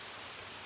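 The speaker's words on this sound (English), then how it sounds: "it's raining pretty good here" Heavy, torrential rain pouring down outdoors, a dense, continuous hiss of drops drumming on surfaces, close and steady throughout with no voices.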